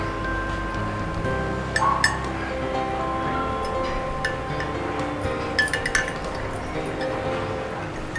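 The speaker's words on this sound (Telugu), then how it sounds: "ఇలా బాగా కలుపుకోవాలి." A spoon clinks sharply against a small bowl or cup while a quarter teaspoon each of olive oil and pepper powder are stirred together, with a few light scattered taps over a quiet background hum.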